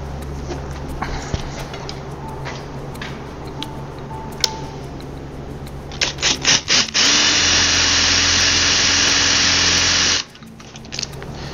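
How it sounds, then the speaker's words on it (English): A power drill bores a hole through a metal bracket for a DIY motorized bead roller, a few short trigger bursts followed by a loud steady whine for several seconds that then stops abruptly. "Stick the tape there and I drill where my next mark is."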